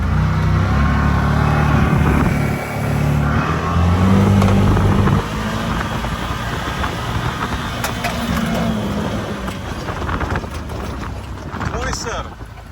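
A Can-Am off-road vehicle drives past close by, its engine droning loudly and rising and falling with throttle, amid wind buffeting on the microphone and some talk.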